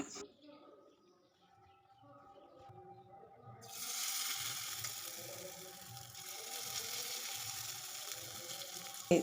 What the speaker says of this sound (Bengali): তড়কা প্যানে অল্প একটু তেল দিয়েছি। তেলটাকে চারিপাশে এইভাবে ছড়িয়ে নিলাম, দিয়ে আমি এইভাবে ব্যাটারটিকে দিয়ে দিচ্ছি।